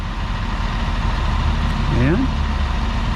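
A truck pulling a boat trailer up a launch ramp rumbles with a steady, loud engine drone throughout, and a voice speaks briefly over it.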